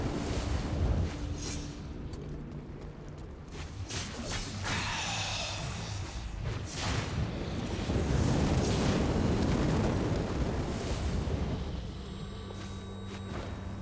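Fire roars in the video game Devil May Cry as a continuous rumbling blaze. Scattered bursts and booms rise over the dense, moderately loud background.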